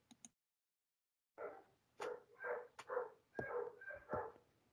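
A dog barks in the background during a home online maths class, a short series of muffled barks and yips, faint and distant, after a brief click and a quiet pause.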